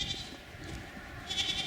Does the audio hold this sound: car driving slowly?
no